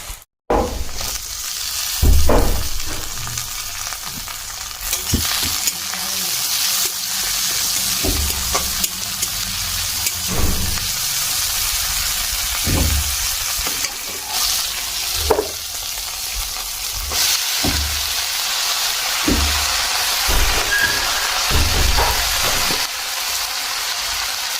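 Onion and green chili frying in a generous amount of oil for a Bengali greens dish, a steady close sizzle broken by intermittent stirring scrapes, with no speech.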